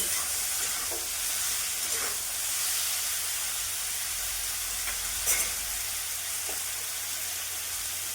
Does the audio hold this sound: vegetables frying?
yes